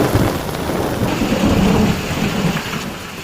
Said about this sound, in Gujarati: આગાહી હતી તે મુજબ જ વરસાદ વરસી રહ્યો છે